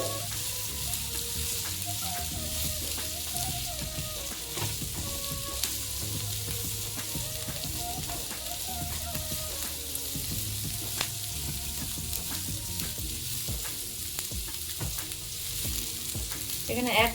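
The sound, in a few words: poppy seeds frying in a pan for malai egg tikka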